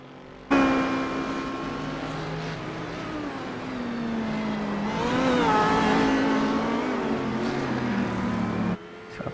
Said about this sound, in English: So it's barreling down these Ford GTs.